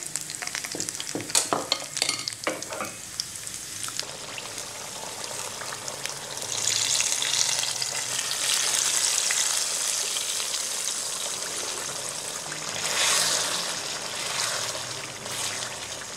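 Curry leaves, red chilies and garlic cloves sizzle in hot oil for mutton pickle curry (achar gosht). Sharp crackles and spatters open the sound, then it settles into a steady, loud frying hiss with stirring, close up and with no speech.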